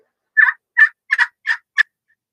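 A crystal turkey call worked with a purple heart striker gives five short, clear yelps in an even rhythm, close and crisp against a silent background.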